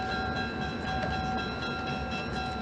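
A train in the 1966 film Seconds, heard as a dense steady rumble of rolling railcars with sustained tonal whine and faint rhythmic clatter, loud and continuous throughout.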